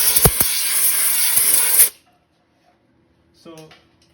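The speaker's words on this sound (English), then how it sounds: "I've got some compressed air here" Compressed air blasts for about two seconds from close range, blowing debris out of the bolt holes on a Spitfire woodchipper, then cuts off into near silence before a short rustle.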